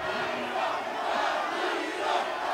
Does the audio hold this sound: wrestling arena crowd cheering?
yes